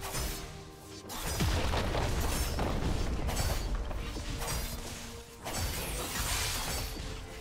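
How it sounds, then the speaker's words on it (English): A League of Legends turret is destroyed, a loud shattering crash and booming collapse amid continuous mid-lane battle effects, with a brief dip before the chaos resumes. "Your team's turret has been destroyed."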